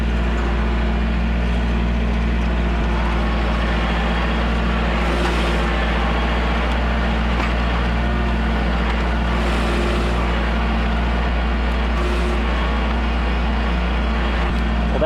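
A compact tractor in low gear and four-wheel drive pulls a two-bottom plow, its engine a steady, loud drone with a constant low rumble that runs unbroken throughout.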